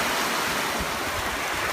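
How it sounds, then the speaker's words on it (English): Ocean waves washing toward shore in a continuous loud, broad rush of surf and churning water, with no voices over it. "the waves knocked down the Teletubbies"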